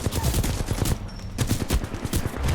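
Rapid, loud automatic fire from a Flatline assault rifle in Apex Legends, a steady stream of sharp cracks with a brief pause partway through before the burst resumes.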